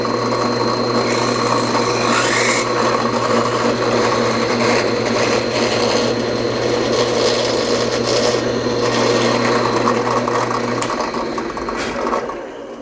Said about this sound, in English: I'm only going to drill about 3/4 of the way through the body